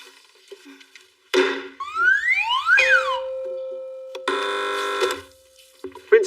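Electronic game show buzzers and chimes ring out in turn on a TV panel quiz, with sweeping tones, a sustained beep and a harsh buzzing burst, loud and close.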